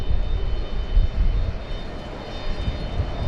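A Qantas airliner bound for Hong Kong departs at Sydney Airport, giving a steady low rumbling roar from a distance.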